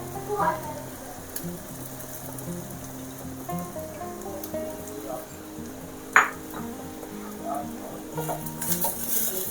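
Tamarind leaves go into a pan of dry prawns, giving a faint continuous sizzle and crackle with scattered light taps and one sharp clink midway, while someone talks over it.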